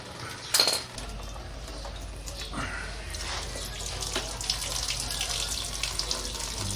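Coolant draining from the radiator of a 2018 Honda CB500X motorcycle, a steady trickling, splashing stream into a container after a brief metallic clink, continuous at close range.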